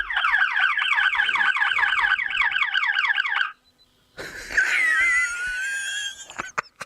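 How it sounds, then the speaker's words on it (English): A car alarm blares a rapid warbling siren cycle for several seconds, cuts out briefly, then returns as a harsher, shifting electronic wail, loud and close with no talk over it. "I want to hear the alarm."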